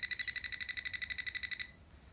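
A voltage tester detecting a live wire gives a rapid series of high electronic beeps, pulsing evenly for about a second and a half, then stops, leaving quiet background.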